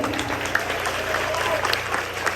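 A congregation claps steadily through a 10th anniversary church service in Lobo, Batangas, the dense applause continuous and room-filling, with a voice faintly present beneath it.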